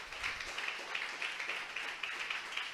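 A church congregation claps for Jesus with steady, fairly quiet applause that continues evenly throughout, with no voices on top.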